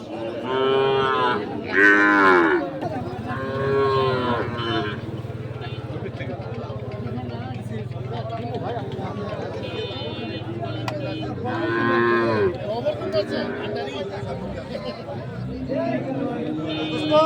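Calves moo repeatedly at a cattle market, some calls loud and close, over a steady murmur of crowd talk and a low hum, with people speaking throughout.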